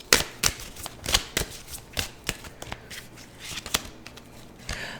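Deck of tarot cards being shuffled by hand, a close series of sharp riffling slaps and flutters in irregular bursts, several distinct shuffles over a few seconds with no talking.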